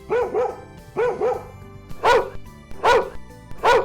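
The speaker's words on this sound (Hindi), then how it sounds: "अचानक जोर से भौंकने लगता है।" A dog barks loudly and close by, several sharp barks in quick pairs and singles, insistent and rhythmic.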